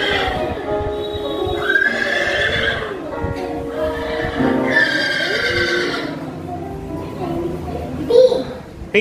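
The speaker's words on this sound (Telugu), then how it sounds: "హార్స్. గుర్రం." A horse neighs and whinnies in loud, near bursts during a first-grade classroom animal-sounds activity, with children's voices and a faint clip-clop of hooves.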